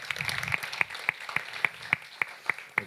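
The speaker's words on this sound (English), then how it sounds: "let's give a huge round of applause to Alexander, who's the country manager of Alight Finland." An audience at an energy-themed conference claps in a sparse, regular rhythm of about nine sharp, evenly spaced claps, fairly close and standing alone without talk.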